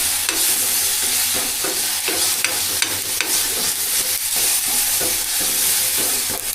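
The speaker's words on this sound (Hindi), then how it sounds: "उसके बाद लगाऊंगा तड़का इस पे।" Tadka of spices sizzling in hot oil in a kadai, with a loud, steady crackling hiss and irregular sharp pops and spatters throughout, heard alone.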